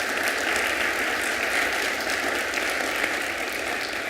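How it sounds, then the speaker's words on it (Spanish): An audience at an energy reform forum gives a round of applause for a presenter, a moderate and even clapping that sounds a little distant, with a steady hum underneath. "Un aplauso también, por favor, a Benito Venegas."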